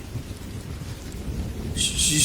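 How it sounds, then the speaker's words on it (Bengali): A low rumble of thunder rolls beneath a steady hiss of light rain, with a brighter splash of rain noise building near the end. "আকাশে তখনও মেঘ ডাকছে ঝিরিঝিরি বৃষ্টি পড়ছে"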